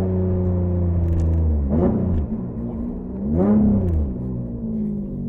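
A Lotus Evora GT430 with a Stage 2 tune and a manual gearbox accelerates on a wet road in Nice. Its engine drones steadily, then climbs through two loud, rising revving sweeps with a gear change between them.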